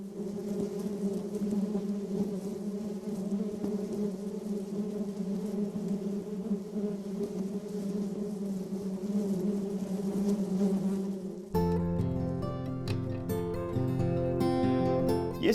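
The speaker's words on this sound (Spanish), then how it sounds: "Y es que abejas aún hay" Bees hum in a steady, moderately faint swarm drone that continues for about eleven seconds before being cut off abruptly by music.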